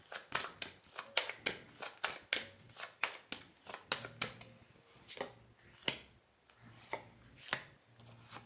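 Tarot cards being shuffled by hand, with a quick series of crisp riffling snaps and flicks at close range, thinning out toward the end.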